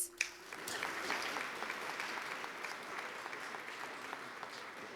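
An audience at an archaeology awards ceremony breaks into applause after a brief sharp sound, the clapping and cheering continuing steadily and fairly loud for several seconds.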